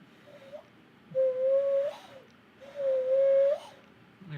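Two sustained, breathy hooting notes blown through cupped hands to imitate an owl call, each lasting close to a second and rising slightly at the end, separated by a short pause. Close and fairly loud, with no talking.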